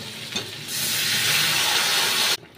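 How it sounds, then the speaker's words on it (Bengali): A sudden loud hiss and sizzle as milk is poured into a hot pan of fried, boiled vegetables for shukto, rising sharply and holding steady for about two seconds before stopping. "এবার দিয়ে দেবো আমি দুধ"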